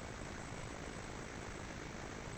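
WWI fighter plane engines in the Skies above the Great War game, a continuous dense propeller drone with a broad steady roar, unbroken and without talk.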